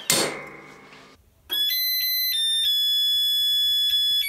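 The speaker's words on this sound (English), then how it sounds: "Is this not the most annoying timer sound you've ever heard?" A heat press timer alarm sounds a loud, piercing electronic beeping in a steady repeating pattern, following a brief hiss and thud of the press closing, with no talking.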